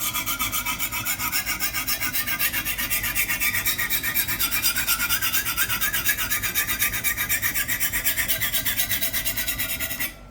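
A cheap kitchen knife being sharpened on a stone, a steady close rasping scrape repeated in quick even strokes, alone without voices, ending abruptly.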